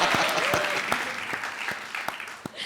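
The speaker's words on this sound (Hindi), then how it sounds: "ताली बजाओ यार, तब चलेगी ये, ताली बजाओ" Studio audience at a comedy show clapping steadily for a few seconds, a dense close burst of applause that tapers slightly at the end.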